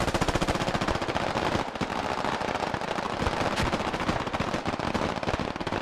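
Gunfire in the video game SquadOps, a dense, sustained volley of rapid automatic shots rattling continuously and loudly, with overlapping bursts and no talk.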